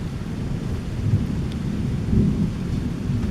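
Heavy thunderstorm in Kassel with deep, continuous rumbling thunder swelling twice over steady rainfall, loud and close with no voices.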